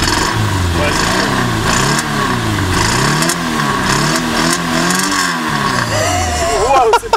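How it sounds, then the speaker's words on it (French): A Renault Twingo 1 engine revs repeatedly in rising and falling sweeps, loud and close, after coil, spark plug and lead replacement, with occasional pops and voices talking over it. "Donne des coups de gaz un peu là."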